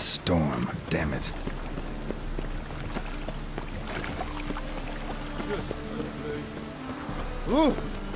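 Steady storm rain in The Witcher 3 pours continuously throughout, with a brief low rumble near the start and a voice and other game sounds rising above it now and then.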